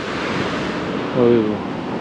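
Sea waves washing up over a beach, a continuous loud wash of surf mixed with wind buffeting the microphone and a brief swell in the middle.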